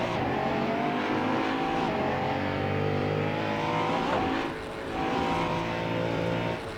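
A Koenigsegg One:1 hypercar engine in the Assetto Corsa video game, on the Nordschleife, screams at high revs, accelerating hard and steadily, loud and close, with a brief dip as it shifts before climbing again.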